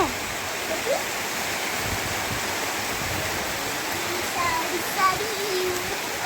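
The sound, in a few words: rain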